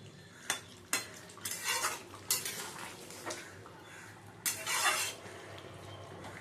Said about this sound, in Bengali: এবারে নেড়ে চেড়ে নিয়ে দেখি সবজিগুলো সেদ্ধ হলো কি না।